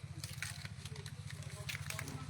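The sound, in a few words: tilapia fish sizzling while being grilled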